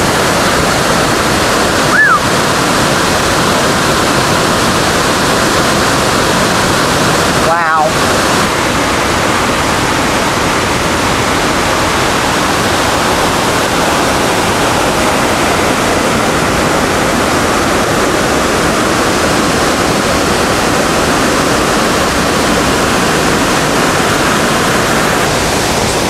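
A rain-swollen mountain waterfall pours off a rock slide along the Blue Ridge Parkway, a loud, constant roaring rush close by, with one brief exclaimed word early on.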